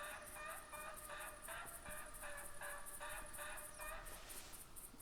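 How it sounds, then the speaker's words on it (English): A turkey hen calls in the hunting game theHunter, a faint, distant series of repeated yelping notes in quick rhythmic bursts over quiet outdoor ambience. "It almost sounds like there's another hen coming somewhere"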